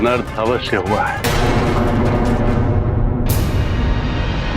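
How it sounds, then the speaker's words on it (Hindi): Heavy clash of Ravana's mace in a mythological battle from a Hindu epic drama, heard as booming, crashing impacts that surge in twice under a man's and woman's continuing dialogue. "ये तो दशानंद की गदा की ध्वनि थी स्वामी।"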